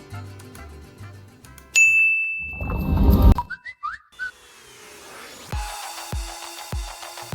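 Notification bell ding effect, a bright sustained chime ringing out among other cartoonish sound effects, clangs and whistles, followed by a few rhythmic thuds.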